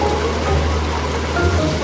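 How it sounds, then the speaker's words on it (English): Rain falling around a yacht in the Mediterranean off Crete, a steady dense patter heard alone without voices. "And a little rain causes big problems."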